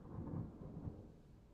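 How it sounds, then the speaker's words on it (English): Thunder in the Star Citizen video game: a deep, close rumble that swells to a few heavy peaks and then rolls off, with a faint wash of rain beneath it. "That was some pretty loud thunder."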